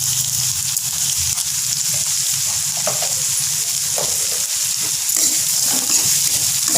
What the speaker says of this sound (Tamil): வெங்காயம் பாருங்கள் நல்லா வதங்கிட்டு இந்த பொன்னிறமாக வரணும்.